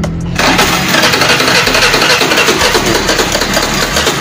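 A car engine with a weak battery and a suspected idle speed control fault is cranked in a start attempt, a loud, rhythmic churning that starts abruptly after a brief pause and keeps pulsing evenly without catching.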